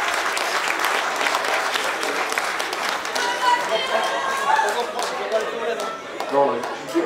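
Sustained applause and cheering from a crowd greeting runners in the men's categories of a 23 km trail race, dense and lively throughout, with an announcer talking over it.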